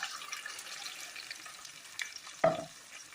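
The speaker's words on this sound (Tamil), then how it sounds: "இப்போ நம்ம அரைச்சு வச்சிருக்க தக்காளி ஊத்திக்கலாம். லோ ஃப்ளேம்ல வச்சுக்கோங்க." Ground tomato in hot oil over a low flame, a faint soft sizzle with light stirring and one sharper splashy burst near the end, no voices.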